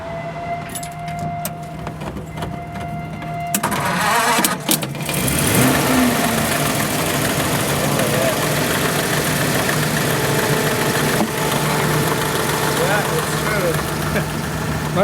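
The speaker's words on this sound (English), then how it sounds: "But that's a V8 engine too." A Ford Model T with a 60-horsepower V8 starts, and its engine then idles steadily close by, with a low continuous rumble under background chatter and people talking.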